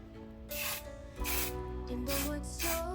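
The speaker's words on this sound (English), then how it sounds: "now I'm going to spray it with some hairspray" Hairspray sprayed from an aerosol can onto an epoxy resin fairy-house mold, heard as several close, loud hissing bursts in an uneven rhythm.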